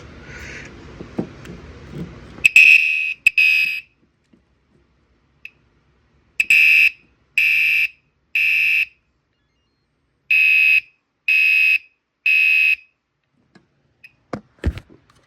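Gentex Commander 5 LED horn/strobe fire alarm sounding in a run of loud, evenly spaced horn blasts with pauses between, close to the listener, after a brief lead-in of handling noise.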